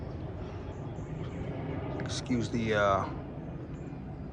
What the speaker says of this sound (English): Get planes coming through here all the time.